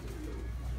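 A pigeon gives a short, low, throaty coo, close and fairly loud against faint background noise.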